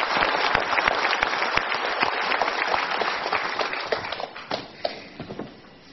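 Steady applause from a crowd, dense clapping that thins out toward the end with a few scattered claps.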